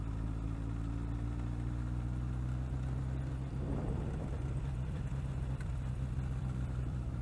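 A motorcycle taken super slow around a curve on South Mountain, its engine humming at a steady low drone with a brief rise in the middle, plus a constant wind rush.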